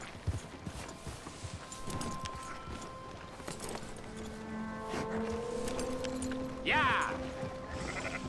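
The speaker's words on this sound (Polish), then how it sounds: "przywiążemy konia." Horse hooves clip-clop at a slow walk in the Red Dead Redemption 2 video game, steady and fairly close, under game ambience, a horse whinny and someone talking.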